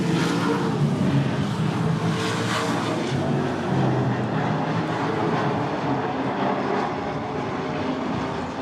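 ASA Late Model stock cars racing wheel to wheel through a corner at I-94 Raceway, a dense, steady engine roar that fills the whole clip with no talk over it.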